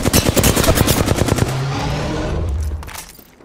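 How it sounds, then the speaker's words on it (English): Rapid automatic gunfire in Apex Legends, a fast close burst of shots for about a second and a half, then a lingering tail that fades out. "Shooting at me."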